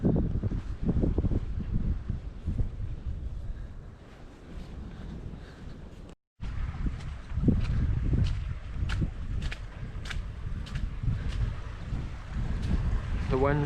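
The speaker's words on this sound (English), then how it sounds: "wind's blowing through here so strong" Strong wind blowing outdoors in Scotland, a steady gusty rush buffeting the microphone throughout, with a brief dropout midway and faint scattered clicks.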